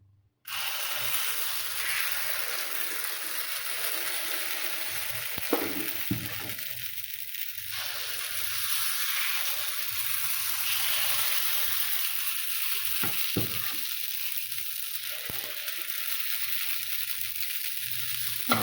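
Paddu batter sizzling in a paddu pan, a steady close frying hiss that runs throughout with a few brief clicks and scrapes, with no talking.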